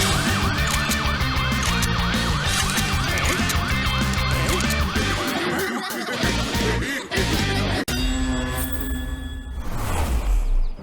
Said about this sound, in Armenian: Ահա, հրշեջները եկան, հիմա ամեն ինչ կհանգցնեն։